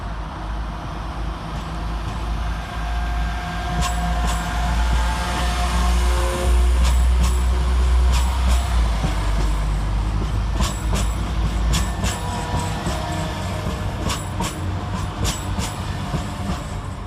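Class 172 diesel multiple unit trains pull away from Birmingham Snow Hill station with a steady diesel rumble and rhythmic clicking of wheels over rail joints, continuous and fairly close.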